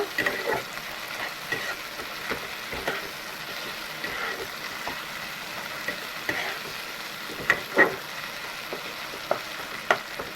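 Chopped tomato stirred and fried in a pan for a fish curry, a soft, fairly faint sizzle broken by repeated spoon scrapes and taps against the pan, close by with no speech.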